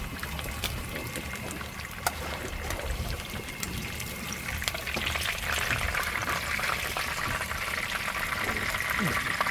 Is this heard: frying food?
yes